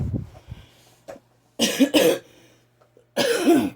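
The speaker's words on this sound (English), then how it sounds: "excuse me, sorry, I have a cough." Three harsh coughs close to the microphone, the last two as a quick double burst, followed by one more after a pause.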